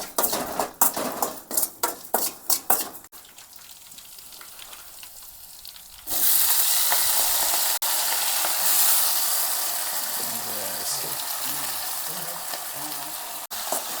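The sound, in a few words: chillies and cumin sizzling in a kadhai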